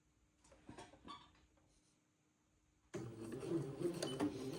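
A sewing machine stitches backward and then forward a couple of stitches, with a few soft clicks first, then a sudden close, steady mechanical whirring hum of stitching.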